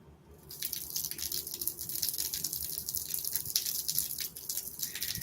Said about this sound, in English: it's actually water squirting out from some type of filter back there.